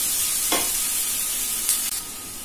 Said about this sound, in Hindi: अभी मैंने इसमें कैप्सिकम एंड जिंजर और हम इसे चलाते रहेंगे।